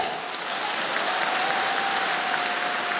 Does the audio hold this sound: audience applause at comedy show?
yes